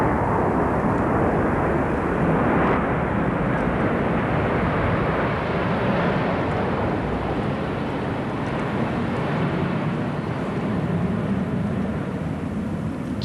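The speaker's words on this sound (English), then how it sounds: "Now here comes the fly past. 12 Phantom aircraft," Twelve Phantom jets and four Lightnings make a fly past beneath low cloud at a 1969 ceremony, heard as a broad, continuous jet roar that stays steady and loud throughout.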